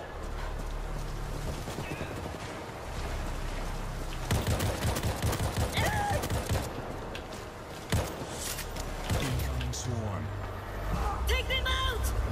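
Rapid bursts of battle rifle fire in the online zombie shooter World War Z ring out over a continuous game soundscape, with sharp shots clustered in the middle and end and someone talking excitedly throughout.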